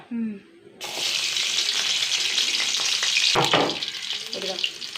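Three or four garlic cloves drop into hot oil in a pan for red chili chutney, setting off a sudden, loud, steady sizzle after a brief quiet start, with a sharp clatter partway through.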